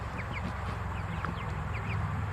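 Homestead chickens cluck and squawk outdoors in short scattered calls over a low steady background rumble, moderately close but fairly quiet.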